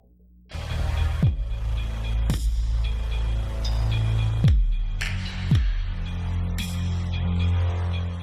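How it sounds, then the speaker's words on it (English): Audrey II synthesizer from Synths Academy plays harsh, chaotic noise: loud bursts and swooping pitch drops at irregular moments over a constant buzzing drone, with no voices. "That's the sound of a synth that thrives in pure chaos."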